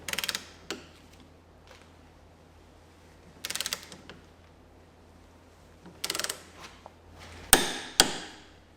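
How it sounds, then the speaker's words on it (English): A ratchet torque wrench tightens the lower suspension bolt on an Audi Q7, Touareg or Cayenne during an axle replacement. Three bursts of quick close ratcheting clicks are spaced a few seconds apart, followed by two sharp metallic clunks. "You want to put the torque wrench onto the nut end rather than the bolt end."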